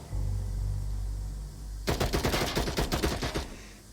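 Players empty their magazines in the Onward VR shooter, a low hum giving way to a sudden burst of rapid automatic gunfire, a dozen or so sharp shots in quick succession, loud and close.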